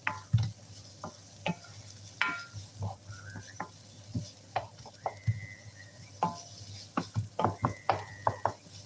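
Onions and vegetables sautéing in a pot and being stirred, giving a soft sizzle broken by scattered clicks and scrapes of a spoon against the pot, close and fairly quiet.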